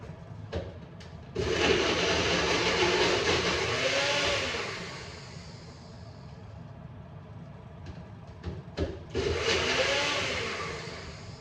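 A loud whirring blender motor runs in two bursts of several seconds each while blending shrimp, with a gap of quieter background between them.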